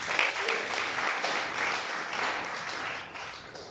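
A church congregation applauds and acclaims the Lord during a sermon, dense steady clapping filling the room at moderate distance and fading slightly at the end.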